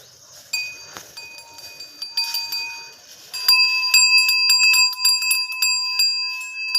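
Bells on a bull's neck ring out clearly, a sustained bright metallic jangling that starts softly and then swells into louder, continuous ringing close by.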